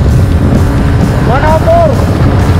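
A Yamaha NMAX scooter's engine held at full revs while riding at speed, a steady loud drone with wind rush, briefly overlaid by a short rising voice or whoop.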